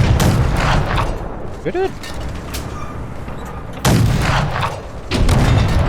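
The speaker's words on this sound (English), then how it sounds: "Oh, this howitzer is strong." Howitzer artillery fire in a modded Fallout New Vegas game, loud broadband blasts at the start and twice more later, with rumbling battle noise in between and a voice talking over it.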